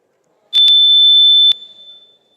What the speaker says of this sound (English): can you sound out your buzzer?